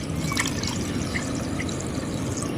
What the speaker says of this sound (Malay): Kita tambah dengan air.